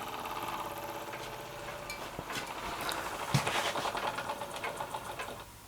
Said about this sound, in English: the little Marine steam engine